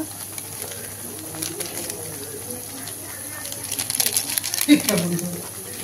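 Spice masala for butter chicken frying in a pan, a steady low sizzle with stirring and scraping that grows louder near the end, with faint background noise.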